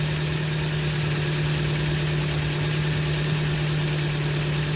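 Car engine idling steadily while warming up, a constant low mechanical hum with a strong even drone and faint vibration, close by and unbroken, with no voices.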